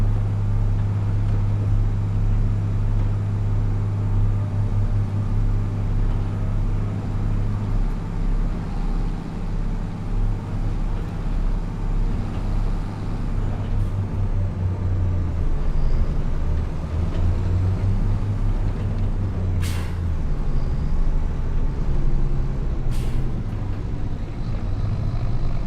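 A tractor engine drives with a steady, low, droning rumble that continues throughout, rising and falling slightly, with two brief sharp clicks near the end.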